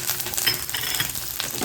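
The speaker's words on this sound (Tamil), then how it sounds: "இந்த சட்னி வதக்கிற நேரம் தான்." Garlic sautés in a pan for spicy kara chutney, giving a steady close sizzle with soft scraping stirs throughout and no talking.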